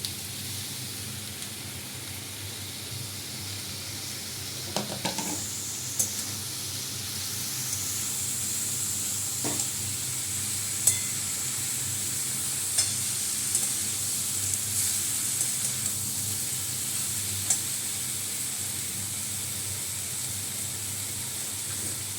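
Beetroot and carrot curry tipped into a hot pan, a bright sizzle flaring up partway through and then holding as a steady frying hiss, with a few faint clinks of stirring.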